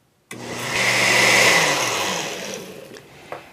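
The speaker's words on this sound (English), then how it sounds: "shred enough cabbage to put it into the blender and get this slurry going" A countertop blender starts abruptly and churns a cabbage slurry with sugar, a loud, steady whirring roar that holds for about three seconds before easing off, with a small clack at the end.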